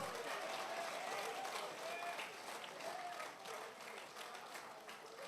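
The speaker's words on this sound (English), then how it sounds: "you must clap for that" Audience applause at the BLP annual political conference, faint and distant-sounding, a steady wash of clapping from a large crowd with some voices mixed in, gradually easing toward the end.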